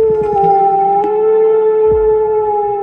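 A dog lets out a long, sustained, tonal howl like crying, holding steady and loud throughout with faint clicks and a low thump beneath.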